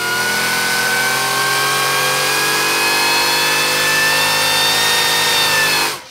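A supercharged Ford Godzilla 7.3L V8 with a Harrop supercharger, on test, held at high revs: a loud, steady, sustained engine roar whose pitch creeps slightly upward, then cuts off abruptly at the end.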